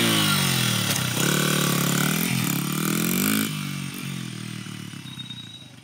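A pit bike engine fires up and revs hard, its buzzy rasp rising and falling in pitch before settling to a lower, rougher idle, loud and close with no talk.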